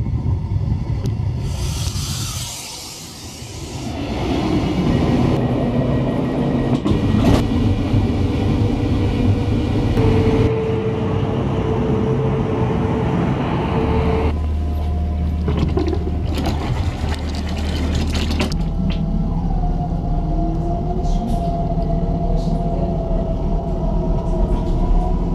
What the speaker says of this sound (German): wir fahren jetzt von Peindorf mit der Regionalbahn bis Petershausen und dann mit der S-Bahn nach Vierkirchen-Esterhofen